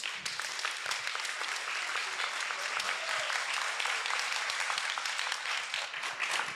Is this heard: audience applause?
yes